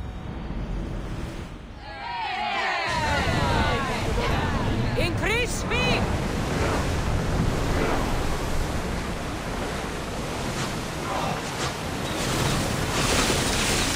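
A sailing ship in Assassin's Creed Odyssey cuts through ocean waves, a steady loud wash of surf and wind running nearly the whole time, with brief bright calls and voices over it early on.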